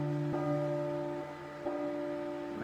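Church bells toll at midnight in the horror game P.T. (Silent Hill), two distinct strikes whose ringing tones hang on and slowly decay, with no voices present.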